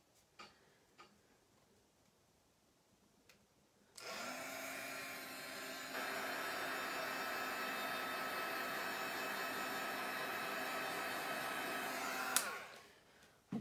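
A heat tool dries paint on a mixed media plaque, with a steady whirring blow that starts abruptly, steps up in level partway through and cuts off after about eight seconds. Faint ticks come before it.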